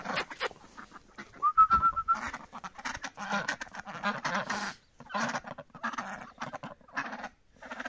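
Ducks quack and honk close by while eating wet bread in a garden, amid soft pecking and shuffling, with short bursts of feeding noise broken by brief pauses.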